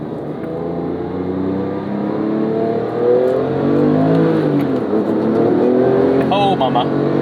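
A 2008 Porsche 911 GT2 (997) engine revs and pulls hard under acceleration, a loud, steady, rising drone heard from inside the car, with a voice briefly audible near the end.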